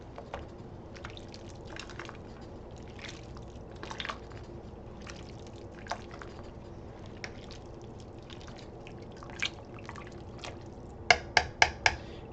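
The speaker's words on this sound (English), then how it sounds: "You can see it bubbling at the top." Dill pickle soup bubbling in a nearly full pot, heard as faint, scattered pops and drips over a low simmer, ending with a quick cluster of sharper pops.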